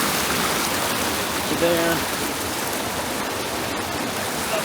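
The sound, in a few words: river water flowing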